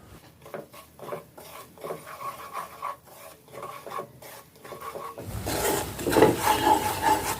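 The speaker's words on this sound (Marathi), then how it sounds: "रवा आणि बेसन आता आपल्याला थोडंसं सोनेरी कलरचं होईस्तोवर भाजून घ्यायचं आहे" Semolina and gram flour stirred as they roast in ghee in a pan over a very low flame for moong dal halwa. A spoon scrapes and rubs close by in uneven strokes, growing louder and denser toward the end.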